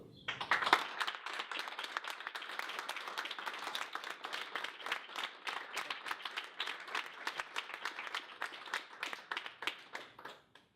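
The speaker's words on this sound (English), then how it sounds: "can I please get a round of applause" Students at a college board meeting break into applause, a dense, sustained patter of many hands clapping that starts abruptly and continues for about ten seconds before trailing off.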